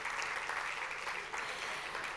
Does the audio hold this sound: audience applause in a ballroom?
yes